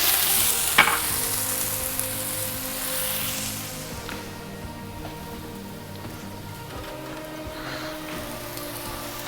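Shrimp searing in a smoking hot pan, a loud steady sizzle with crackles that starts strong and settles into a continuous frying hiss, close up and without talk.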